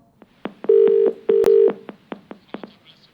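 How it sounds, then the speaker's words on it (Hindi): A phone being dialed, with a few sustained tones and a quick series of sharp clicks or key beeps, loud and close, no talking. "देखिए, हम लगातार फोन मिला रहे हैं, कोशिश कर रहे हैं"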